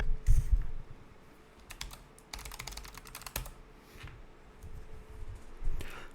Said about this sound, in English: Let's put the password in.